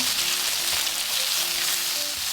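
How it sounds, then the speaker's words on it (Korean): Cucumber and minced garlic stir-fry in plenty of oil in a preheated pan over high heat, giving a dense, loud, continuous sizzle up close with faint stirring underneath. "추가로 오이 넣어 힘불에서 볶아주세요"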